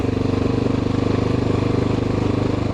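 A Honda XR650L dual-sport motorcycle with a new clutch and worn tires, its single-cylinder engine running with a steady, even thumping drone throughout, loud and continuous, with no voices.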